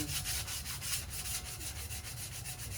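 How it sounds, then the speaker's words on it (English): Steady hand sanding of old rusted metal, a continuous rhythmic scratchy rubbing with regular back-and-forth strokes, close and fairly quiet, no voices. "a little light sanding, and I'll get with it."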